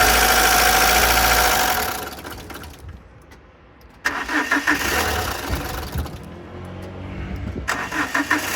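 Car engine with a tapping fault cranking and starting: a loud burst of engine noise that fades, then a second start catching into a running idle with irregular knocking.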